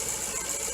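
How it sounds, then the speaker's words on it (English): A Jaguar engine idles after a throttle body repair, giving a brief, steady mechanical hum and drone up close with a slight rough pulsing and no voices. "it seems to be idling roughly where it did before"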